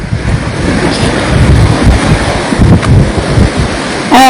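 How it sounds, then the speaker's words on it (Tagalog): Strong sea waves rolling onto the shore on a rough morning after rain, a loud continuous roar and wash of surf with heavy wind buffeting the microphone, no voices. "lakas ng alon ngayon. Hindi kasing kalmado ng dagat ng kahapon ng umaga."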